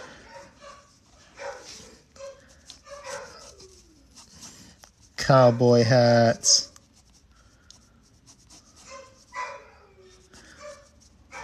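Small dog barking in a short burst of several yips and whimpers, loud and close, between stretches of quiet talk and pen scratching.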